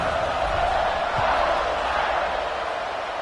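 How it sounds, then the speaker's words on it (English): Stadium crowd in the video game NCAA 25 football, a dense, steady roar of many voices filling the space without a break. "this crowd is buzzing after that last score"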